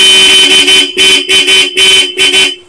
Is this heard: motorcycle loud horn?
yes